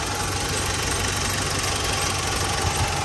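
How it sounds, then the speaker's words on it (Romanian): A 2007 BMW 1 Series engine runs steadily at idle, a close, constant mid-range mechanical drone with faint knocking and no talk over it. "motorul merge bine, adică motorul funcționează"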